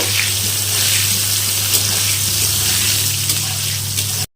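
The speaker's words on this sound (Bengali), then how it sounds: "আর একটু তেল দিয়ে দিলাম এখন দিয়ে দেবো বেগুন দিব লবণ দেব হলুদ বেগুনগুলো ভালো মতো ভেজে নেব" Eggplant frying in hot oil with salt and turmeric in a home kitchen, a steady loud sizzle that runs unbroken for a few seconds with no voices.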